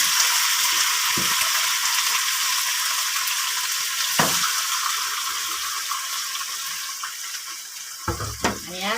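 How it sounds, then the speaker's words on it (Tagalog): Chicken pieces sizzle and fry in a pan with onions, a steady broadband hiss throughout with occasional stirring clatter and a brief watery splash near the end, no talk. "Tapos ilagay na natin guys yung chicken."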